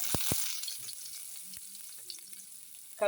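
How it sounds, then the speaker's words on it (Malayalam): Garlic hits hot oil in a pan while a leafy greens dish is cooked, giving a steady close sizzle with a few sharp pops and clicks near the start and a brief clatter at the end. "എണ്ണയൊക്കെ തിളച്ചിട്ടുണ്ട്"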